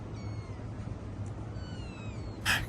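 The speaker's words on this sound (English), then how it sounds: "Look at these adorable kittens." Adorable kittens meow faintly a few times in quiet surroundings, thin high cries drawn out, ending with one louder, brighter mew near the end.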